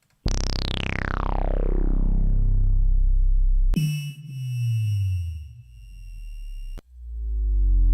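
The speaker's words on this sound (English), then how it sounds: "And I got a lot of these sub drops." Synth sub drop samples play in the Cubasis music app: deep sine tones sweep steeply downward one after another, clean and loud over silence.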